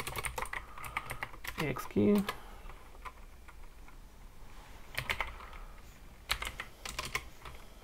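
Go code being typed on a computer keyboard, close bursts of quick key clicks with pauses between them, and someone speaking briefly partway through.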